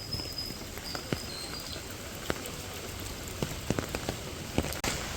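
Heavy monsoon rain pours during a flood in Chiplun, a steady dense hiss of rain on surfaces with scattered sharper drops and taps, heard alone without voices.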